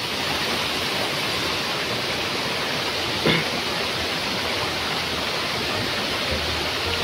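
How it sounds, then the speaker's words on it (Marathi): A stream of water in a Konkan village rushes steadily without pause, a dense, even broadband wash that fills the whole clip, with one brief faint knock near the middle. "तुम्हाला आवाज येत नसेल चांगला कारण तर पाण्याचा आवाज आहे"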